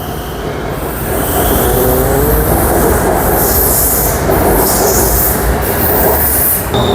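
A BTS Skytrain train moves through Phloen Chit station, giving a loud, steady rumble of rolling wheels and rail noise with faint wheel squeal that lasts the whole time. It stays near and continuous, with no talking.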